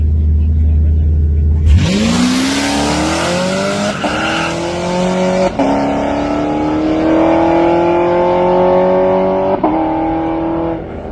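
A loud SRT-8 car engine revs up sharply, its pitch climbing and holding high with a raspy roar, a few quick gear-like changes along the way.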